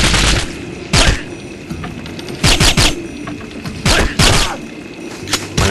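Gunfire in the 007 Nightfire video game: loud close bursts of rapid automatic shots in several clusters, separated by short gaps of lower background game noise.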